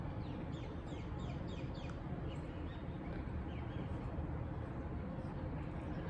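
Faint bird chirps repeat in short bursts over a constant rushing background noise outdoors.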